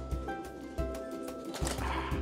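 Soft, low cooing of pigeons in a loft, several overlapping calls close by with faint rustling in the background.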